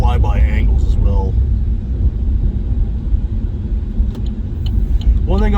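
A Chevrolet SS drives by with a deep, steady, loud engine rumble and road roar that holds throughout, while someone speaks briefly over it at the start and the end.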